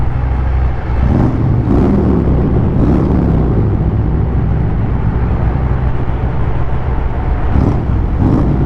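A motorcycle engine revs hard inside a tunnel on the Foothills Parkway in Tennessee, with deep, loud throttle blips around the start and again near the end over a continuous echoing engine rumble.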